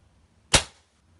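A single sharp shot from an airsoft sniper rifle firing 0.12 gram BBs, one loud crisp snap with a short decaying tail, heard alone against quiet background.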